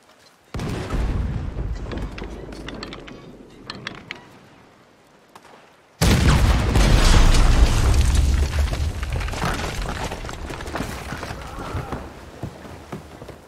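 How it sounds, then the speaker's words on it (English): Cannon fire and explosions in Red Dead Redemption 2 during a ship fight, heavy booms and rumbling blasts with a sharp loud burst midway, mixed with chaotic action noise and shouting voices. "There's another cannon up ahead on our left."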